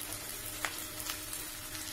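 Sliced okra fries with onions in a pan, giving a soft, steady sizzle with a few light stirring scrapes close by.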